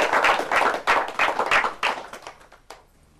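Enthusiastic audience applause at a Hindi poetry recital, welcoming poet Dr Sunil Jogi to the stage: dense, loud clapping for about two seconds, then thinning into scattered claps as it fades out.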